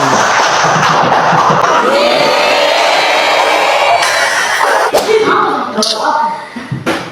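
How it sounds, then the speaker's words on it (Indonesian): In a classroom, a group of children claps and cheers together, loud and close, for about seven seconds. The applause thins out near the end, and a few voices call out over it. "Tepuk tangan dulu."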